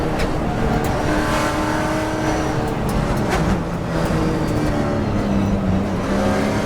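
TA2 series race cars lapping the road course at World Wide Technology Raceway, engines droning loudly and continuously with rising and falling revs as several cars pass close by.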